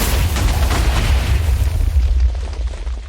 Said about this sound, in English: stack at least 4 TNT minecarts, but more is better. Press the button and wait for the destruction to ensue.